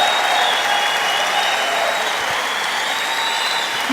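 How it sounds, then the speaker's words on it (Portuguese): A church congregation applauds during a worship service, a steady, dense wash of clapping that holds at an even level throughout with no voices standing out. "pode aplaudir, pode aplaudir, pode aplaudir"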